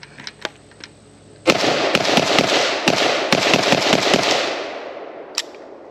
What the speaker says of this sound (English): I pulled the trigger and it went bang and continued to go bang until it was empty